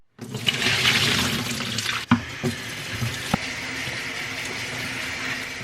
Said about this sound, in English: you always want to make sure that you're using cold water